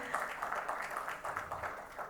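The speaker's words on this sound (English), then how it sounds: "keep the claps flowing" An audience applauds at the inaugural session of a two-wheeler electric mobility conclave: dense, steady clapping from many hands filling the hall, moderately distant, with no voices on top.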